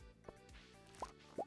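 Water from a watering can drips and plops onto a crate in Stardew Valley, three soft, short splashes spaced unevenly over a quiet background.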